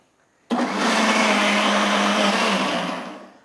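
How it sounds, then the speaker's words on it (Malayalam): A mixer grinder whirs loud and steady for about three seconds, blending a vanilla ice cream mixture under its closed lid, starting abruptly and tapering off at the end. "ഇനി നമുക്ക് മൂടി വെച്ചിട്ട് നല്ലോണം മിക്സിൽ ഒരു 2 കറക്കം കൂടെ കറക്കിയെടുക്കാം"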